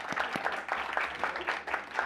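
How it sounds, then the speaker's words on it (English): An audience applauds a barbecue team at a full SHAC meeting, a fairly soft but steady burst of scattered clapping with no talk over it. "Yes, give them a bigger applause."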